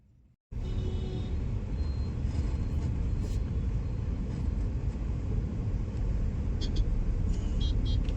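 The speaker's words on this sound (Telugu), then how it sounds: "ట్రాఫిక్ అయితే చాలా గట్టిగా ఉంది ఫ్రెండ్స్." Heavy road traffic on the Miyapur route, heard from inside a moving Victoris car, gives a continuous loud low rumble with faint higher engine and brake noises. It starts suddenly after a brief quiet moment.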